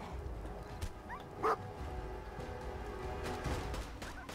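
A dog in the video game Fallout 4 gives a single short yip over a steady background of game ambience and faint rumble.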